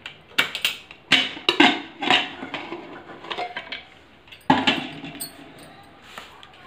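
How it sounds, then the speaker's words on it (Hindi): Metallic clanks and knocks of a pressure cooker lid being handled and opened, several sharp clinks spaced irregularly, with brief speech faintly underneath. "कुकर हमारा ठंडा हो गया है, इसको खोल लेते हैं।"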